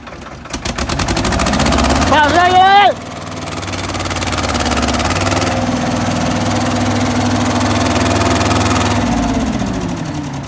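Loud, steady diesel tractor engine chugging close by throughout, with a rising mechanical whine near the start and a voice briefly heard over it.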